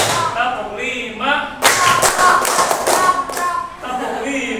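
A schoolroom class clapping along to a teacher's counting rhythm, bursts of sharp group claps in quick patterns alternating with a teacher's voice calling the count.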